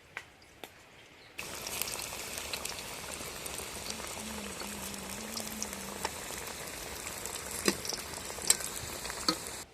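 Fish frying in oil at an outdoor village cook, a steady dense crackle and sizzle running throughout after a brief quieter opening, with scattered sharper pops; no talking.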